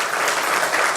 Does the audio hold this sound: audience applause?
yes